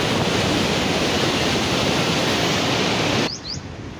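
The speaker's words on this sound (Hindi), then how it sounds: "बहुत ज़्यादा यहाँ से तेज़ी से पानी का बहाव है" Fast-flowing water rushes loudly through a village canal, a dense continuous roar that drops off abruptly near the end, when two brief bird chirps break through.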